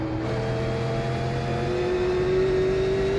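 A Super Late Model race car engine at Myrtle Beach in the iRacing simulator drones steadily at pace, a rough, continuous hum with a slowly rising pitch and no voices over it.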